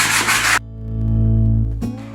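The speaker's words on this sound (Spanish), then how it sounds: "con una lija de grano fino o grano medio, según queráis, vamos a lijar" Brisk scratchy rubbing of fine or medium grit sandpaper on a waxed wooden frame, a short burst then a pause filled by low hum, and another rasp starting at the end.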